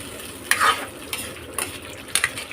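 Corned beef and beef spaghetti sauce frying in oil in a pan, stirred with a utensil, giving soft sizzling with a few short scraping stirs spaced through the clip, close and moderately quiet.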